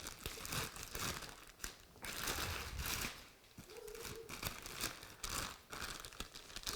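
Crinkling and rustling of a plastic bag holding an OEM computer part, loud and close, continuous handling with crunchy bursts as it is pulled open.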